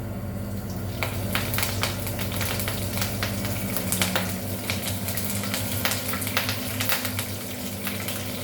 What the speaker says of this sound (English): cloves, cardamom and cinnamon stick. Let it fry little while